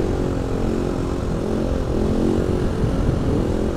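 A motorcycle engine pulls in fourth gear, a loud, steady droning roar with rising pitch as it accelerates, heard up close with wind rush and no speech.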